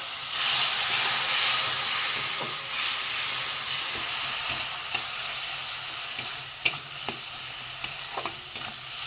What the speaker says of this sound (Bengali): পুড়ে যাচ্ছে বলে একটুখানি জল দেবো আমি জল দিয়ে আমি এটাকে কষিয়ে নেবো